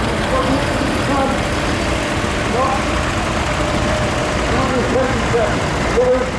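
A 1977 four-wheel drive tractor idles with a low, continuous engine drone at the Laughton Cuckoo Spring Fayre morning parade, while people talk over it throughout.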